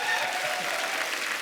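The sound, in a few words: audience applause on a TV comedy show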